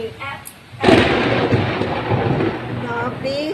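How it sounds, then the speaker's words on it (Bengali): A loud crack and rumble of thunder breaks out during rainfall, rolling on for a few seconds over the steady hiss of rain. "প্রচন্ড মেঘ ডাকছে, বৃষ্টি হচ্ছে।"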